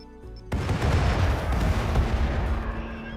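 Grenade blast in Rimworld, a sudden loud boom after a brief quiet moment, followed by a rumbling, crackling decay that lingers for a few seconds.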